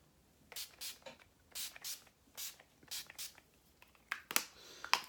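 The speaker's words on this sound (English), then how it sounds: "I am going to use the Urban Decay De-Slick Makeup Control or Makeup Setting Spray, the oil control one" Short hissing bursts of Urban Decay De-Slick oil-control makeup setting spray, about nine quick pumps in pairs and singles, close and fairly loud, with a rougher spurt at the end.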